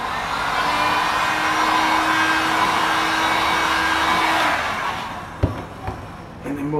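A hot air blower runs close and loud, a steady whooshing roar drying freshly brushed touch-up paint on a scratch repair, then cuts off near the end and leaves a few small clicks and handling sounds.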